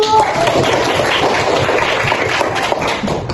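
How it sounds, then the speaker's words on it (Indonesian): Classroom applause for a student group: a steady wash of many hands clapping throughout, dense and fairly loud, with chatter mixed underneath. "Oke, beri aplaus untuk kelompok 1"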